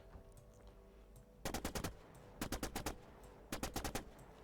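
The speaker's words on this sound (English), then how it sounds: "Select a close assault rifle. Use short burst for maximum effect." A close assault rifle in The Signal From Tölva fires three crisp, evenly spaced short bursts of four or five rapid shots each, loud over a quiet ambient background.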